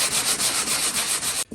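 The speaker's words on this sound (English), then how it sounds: "So we're gonna sand it down smooth" Medium-grit sandpaper rubs back and forth over a drywall patch on a textured wall in brisk, even strokes, a close rasping scratch that stops abruptly.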